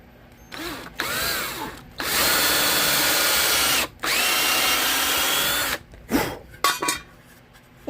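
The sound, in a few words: power drill drilling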